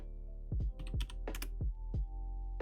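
Fingers tap out a file name on a computer keyboard, roughly eight or nine distinct close keystrokes in a quick, uneven rhythm over a steady low hum.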